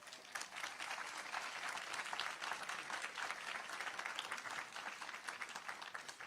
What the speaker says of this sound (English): Round of applause again, everybody.